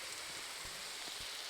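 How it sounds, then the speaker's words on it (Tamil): Steady rain falls in a constant broadband hiss, with a few soft drop taps rising out of the wash; no voices are heard. "சரி மழை நிற்கிற வரைக்கும் பொறுமையாக இருக்கும்."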